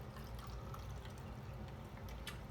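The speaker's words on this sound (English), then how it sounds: "I'm gonna pour some warm water here into the top" Warm water is poured into the top of a toy whale carwash playset, making a very quiet, steady trickle with soft drips throughout and no voices.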